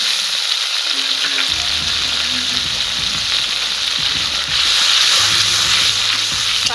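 Ground mustard paste for shorshe ilish sizzling and frying in a pan, a continuous loud hiss with stirring scrapes and a brief quieter moment early on.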